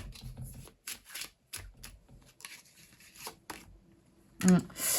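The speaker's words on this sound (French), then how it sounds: "Je tire une deuxième carte" A second card drawn from a deck of cards, with soft, brief papery slides and flicks at close range, several short bursts amid quiet, ending in a louder shuffle-like rustle.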